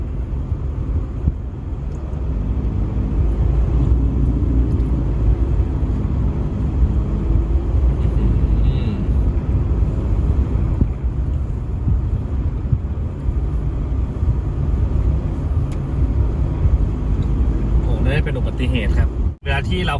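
Steady car cabin rumble while driving along Highway 12 between Phetchabun and Khon Kaen in Thailand, a continuous low drone with road and wind noise throughout and a brief dropout near the end.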